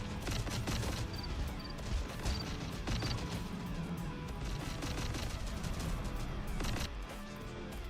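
Artillery fire mission in Terminator Dark Fate Defiance: a dense, continuous barrage of booming impacts and crackling shots, rapid and layered at a moderate distance, with no talk.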